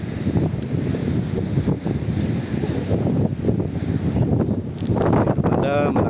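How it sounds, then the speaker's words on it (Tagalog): Steady wind rushes and buffets loudly across the microphone, continuous throughout, with a brief high whine near the end. "simoy ng hangin"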